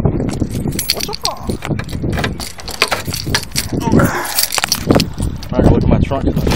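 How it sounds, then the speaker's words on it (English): Keys jangle in a bag as they are pulled out, a bright metallic rattling that comes in bursts, close to the microphone, mixed with rustling and ongoing talk. "got my keys out"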